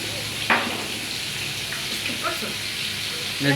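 Fish pieces fry lightly in hot oil in a pan, giving a steady, even sizzle throughout, with a few soft clinks and stirring sounds.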